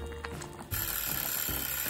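A kitchen timer goes off after five minutes of boiling noodles in a small cooker, with a steady mechanical ringing starting partway in and continuing at moderate level.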